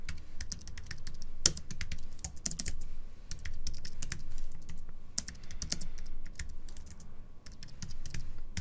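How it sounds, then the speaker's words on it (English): Rapid typing on a computer keyboard, close and fairly quiet, with irregular bursts of key clicks and short pauses over a low background hum, no voices. "I know you're getting sick of typing this stuff out"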